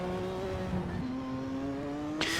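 A 1960s Formula 1 car in a racing video game, boosted to 1200 horsepower, holds a steady droning engine note that drops once, then climbs sharply as it revs hard near the end.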